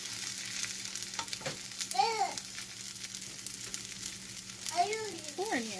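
Arepas frying in butter in a pan give a steady low sizzle throughout, with a voice and brief speech over it.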